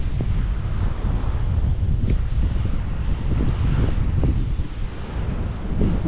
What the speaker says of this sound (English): It's a windy day, so forgive me if that's coming over on the camera.